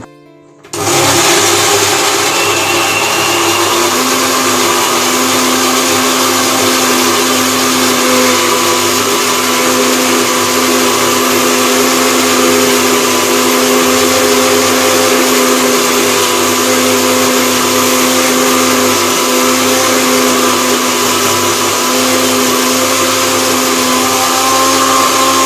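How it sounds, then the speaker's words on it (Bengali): An electric blender grinds green chillies, tomato, ginger, garlic and onion into a paste. The motor kicks in after a brief pause and holds a loud, steady, unbroken whir for about 25 seconds. "কাঁচা লঙ্কা, টমেটো, আদা, রসুন, পেঁয়াজ সব কিছু একসাথে বেটে নেব।"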